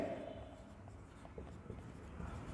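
Chalk or marker strokes scratch across a classroom board during an accounting lesson, a steady run of short dry writing sounds, fairly faint and close, with no talk over them.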